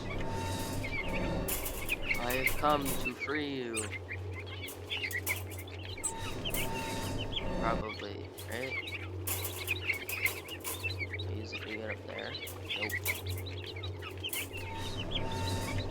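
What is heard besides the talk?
baby crows calling in video game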